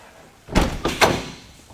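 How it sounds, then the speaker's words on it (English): A school bus door is pulled shut, giving two or three quick, solid thunks in close succession as it closes and latches, heard alone against a quiet background. "Shut the door."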